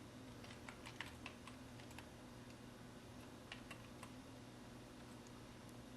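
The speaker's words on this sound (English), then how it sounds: "and start typing" Steady, rapid keyboard typing, soft and fairly distant, continues over a low hum during Photoshop text entry with no talking.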